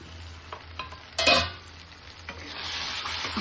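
Mushroom masala with cashew paste sizzles in a pan while it is stirred, with a sharp scrape of the spoon against the pan and a soft frying hiss before and after.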